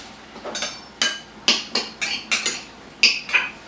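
A spoon clinks and scrapes against a bowl while pecans are stirred into melted butter, about a dozen sharp, close taps in an uneven rhythm with no voices.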